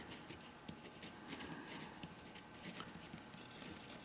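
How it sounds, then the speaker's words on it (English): Pen scratching across paper while writing an answer for a physics exam problem, a steady, quiet, close scribble of continuous strokes and small taps, with no speech over it. "I'm going to write reflection."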